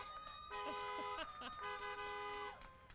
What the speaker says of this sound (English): Honking, horns.